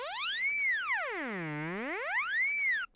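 A synth tone with a harsh pitch wiggle from slow sine-wave modulation, sweeping smoothly up and down in wide arcs, bright and buzzy, heard alone for about three seconds before cutting off.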